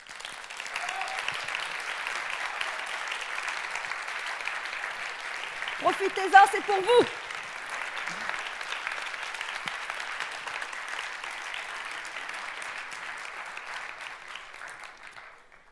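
Sustained audience applause at the Sorbonne Université 2018 final of the MT180 thesis contest, a large hall clapping evenly for about fifteen seconds while a host briefly speaks over it midway.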